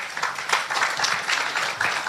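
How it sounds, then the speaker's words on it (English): An audience at a photo club international conference applauds a speaker, with dense, moderately loud clapping and a few faint background voices over two seconds. "A round of applause for him again."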